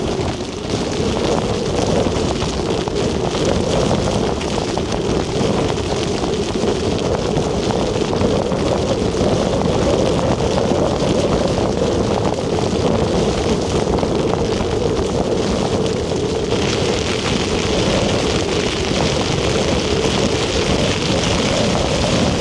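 Strong gusty wind of about 40 mph roars steadily against the microphone outdoors, a dense, continuous rush of buffeting noise with no pauses.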